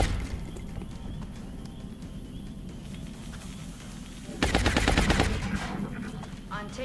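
Gunfire erupts in XCOM Enemy Within with the Long War mod: a loud burst of rapid, rattling shots mid-clip rises over a steady, busy battle ambience.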